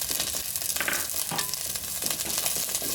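Shallots frying in oil with cinnamon and cloves for a mutton curry, a loud continuous crackling sizzle with brief stirring scrapes, no voices.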